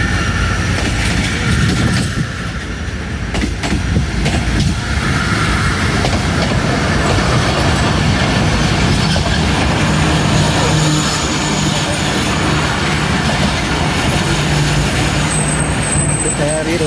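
A passenger train led by an SGM 30R locomotive pulls into Drigh Road railway station in Karachi, a loud rolling rumble with clattering wheels and a brief squeal near the end, heard under platform voices.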